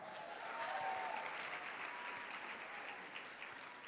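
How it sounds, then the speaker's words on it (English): An audience of entrepreneurs at a live event gives itself a round of applause, a faint, distant-sounding wash of clapping that swells early and slowly tapers. "Give yourselves a round of applause."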